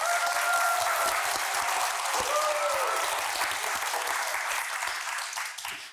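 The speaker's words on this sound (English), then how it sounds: "Can we get a big round of applause for the organizers?" A conference audience applauds the event organizers, steady sustained clapping from a large crowd in a hall that fades slightly at the end.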